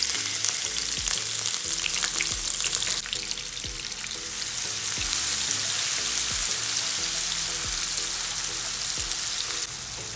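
Crushed shallots and garlic fry in hot oil in a pan for a Tamil-style egg curry, a steady loud sizzle running throughout with occasional stirring knocks and scrapes, no voices.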